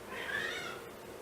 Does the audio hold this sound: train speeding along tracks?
no